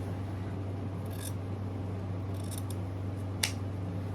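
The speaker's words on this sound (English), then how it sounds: "we're going to trim this one again from the folding side of the ribbon" Scissors trimming ribbon from its folded side while making a bow by hand, a few quick crisp snips over a steady low electrical hum.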